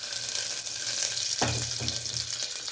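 Chopped onion, curry leaves and mustard seeds fry in hot oil with a steady, loud sizzle; midway a brief clatter and a burst of spitting rise over the constant hiss.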